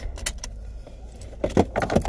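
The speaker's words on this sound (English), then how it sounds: "On my house keys." House keys jangle in bursts of bright metallic clinks, a couple early and a livelier flurry toward the end, over a low rumble like a nearby car.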